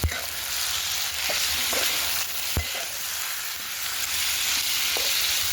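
Chicken curry with turmeric and salt sizzles in a large pot over a wood-fired stove, with a steady frying hiss broken by a few knocks from the stirring spoon.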